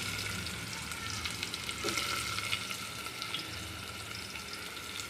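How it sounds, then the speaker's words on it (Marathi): Chopped onion frying in hot oil in a pot on a gas stove, a steady close sizzle with faint stirring scrapes throughout, no voices. "आता कांदा टाकून घेतोय."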